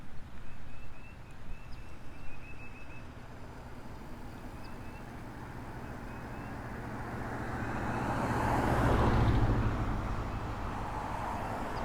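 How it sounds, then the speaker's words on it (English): Cars pass on a street during a rainy walk, with a steady wash of traffic noise and one vehicle swelling up close and loud before fading away. "These cars make it hard to do a video."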